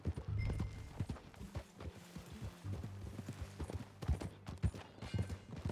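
Horse hooves clip-clop steadily in Red Dead Redemption 2 as a new horse is ridden at a walk, the close, rhythmic hoofbeats running throughout with a low rumble underneath and a faint whinny.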